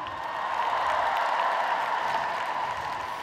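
A large crowd at the 2017 Winter Universiade opening ceremony in Almaty applauds in a sustained, even roar of clapping that fills a big arena.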